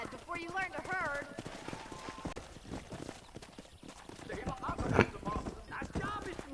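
Horse hooves clip-clop steadily in a Western ranch video game while characters talk over them, with music and a sharp burst partway through.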